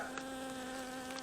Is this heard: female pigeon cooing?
no